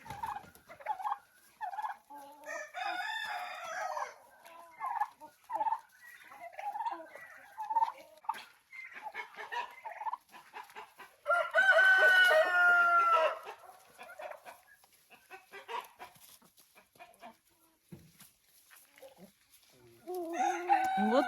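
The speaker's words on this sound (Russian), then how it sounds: "Вот так вот куры встречают индюшат." Hens clucking and a rooster crowing in a backyard chicken coop where young turkeys are let out onto the grass, with bursts of loud crowing and squawking around mid-clip and scattered clucks throughout, fairly close.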